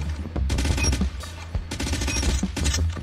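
Type 25 rifle with a new skin fires in a video game, loud rapid automatic bursts in several clusters with brief pauses between them.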